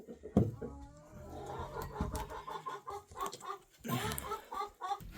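A pet hen clucks softly and repeatedly while pecking at egg, close and faint, with small scratchy feeding noises between the clucks.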